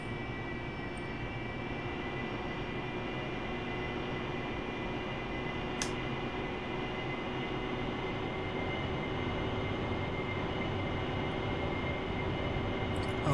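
Steady, continuous jet engine roar from an AV-8B Harrier in the DCS World flight simulator, a dense even drone with a faint high whine, holding at constant loudness and rising slightly toward the end with no talk over it.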